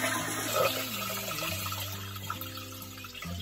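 A toilet flushes to empty its tank, with a loud rush of water that settles into a steady draining gurgle, heard up close with no voices.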